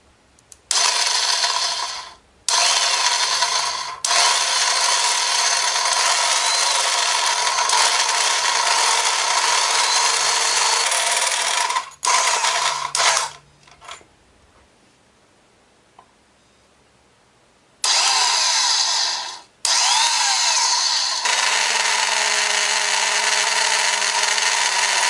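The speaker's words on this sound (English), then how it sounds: "Use a 3/4 inch hole saw." A power drill drives a 3/4 inch hole saw while a Nissan exhaust side guide is being installed, giving loud sustained grinding runs broken by brief pauses and a longer quiet gap before drilling resumes.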